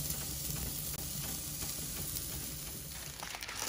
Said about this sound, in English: we'll blacken off our peppers in so you can get them nice scorchy